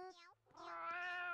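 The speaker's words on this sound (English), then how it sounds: "Little meow." A cat gives a short meow, pauses, then lets out a longer, drawn-out meow close to the listener.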